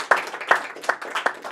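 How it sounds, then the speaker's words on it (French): A small audience clapping for Nicole after her appearance, a few sparse, uneven hand claps at close range, light and short rather than a full ovation. "On peut Merci. l'applaudir."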